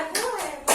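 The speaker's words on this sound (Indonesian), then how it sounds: "untuk ibu-ibu yang menjawab kita kasih tepuk hebat dulu ya" A group of mothers in a class session claps a short cheer: a few quick bursts of hand claps, fairly close, with voices mixed in.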